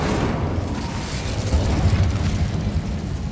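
The Incendio fire spell in Hogwarts Legacy bursts out as a loud, rumbling blast with a roaring, crackling flame sound that holds for about three seconds and doesn't fade.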